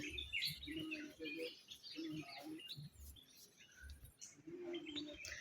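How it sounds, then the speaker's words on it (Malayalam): Small sparrows chirp and twitter in short, bright bursts throughout, fairly close, around a village home in Palakkad, Kerala, with low, muffled thumps and background noise underneath. "ഇതാണ്ട കുരുവി"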